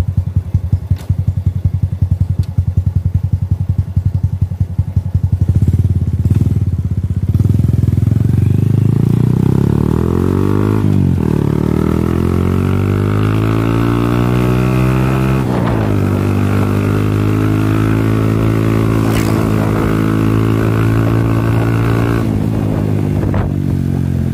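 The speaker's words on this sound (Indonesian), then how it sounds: "sudah saya hidupkan ya, kita coba dulu motornya" A Honda Supra motorcycle that stalls when the throttle is released idles loudly nearby, then revs up and down several times with rising and falling pitch, running continuously throughout.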